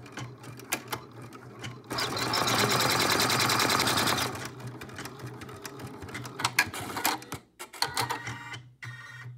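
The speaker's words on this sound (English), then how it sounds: "stitch out step 3 of this stitch map" An embroidery sewing machine stitches an applique step for a felt chick-in-egg piece: a steady, dense mechanical whir runs for about two seconds, then gives way to irregular clacks and thumps of the needle and hoop, close by, with no voices.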